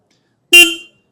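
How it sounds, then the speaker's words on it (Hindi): A TVS Apache RTX 300 motorcycle horn gives one short, loud, close toot that fades quickly, with no other sound around it. "एंड देन इसका जो हॉर्न है वो"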